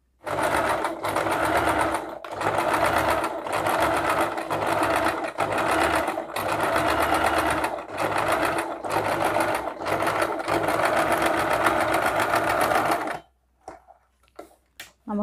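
A sewing machine stitches piping thread into cloth, running in fast rhythmic bursts with brief pauses between runs, close and loud before stopping near the end.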